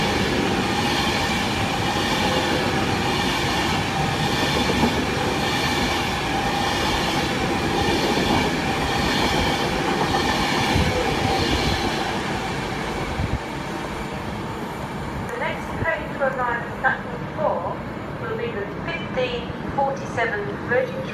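A Virgin Trains class 390 Pendolino rolls slowly through a platform at Milton Keynes Central, its loud rumble and wheel clatter carrying for about twelve seconds before fading, with a station announcement heard under and after it.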